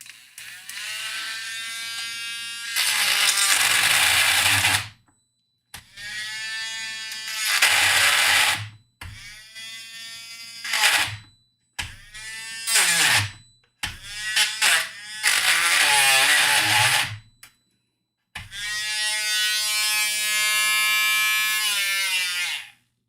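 A Dremel rotary tool with a slightly wobbly bit works on an X-Wing model, whining in several loud bursts of a few seconds each with short silent gaps between them.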